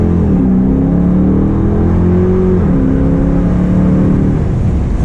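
Custom Jeep Grand Cherokee Limited accelerating hard at wide open throttle, its engine a loud, close, continuous roar climbing in pitch, briefly dipping at a gear change, then climbing again.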